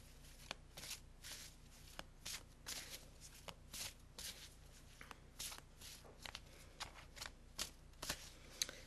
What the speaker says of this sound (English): we're going to go with the Archangel Michael prayer cards